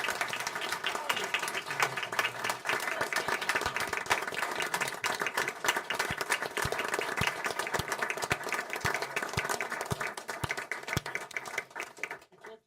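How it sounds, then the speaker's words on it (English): Audience at a town meeting applauding the police chief, dense clapping from many people that settles into a few rhythmic, separated claps before fading, with voices talking beneath it. "Keep clapping till you smile."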